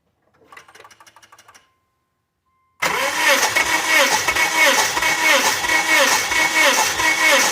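A 2005 Subaru engine cranks on the starter during a cylinder compression test, a loud rhythmic churning with a regular compression pulse, preceded by faint clicks and a brief silence.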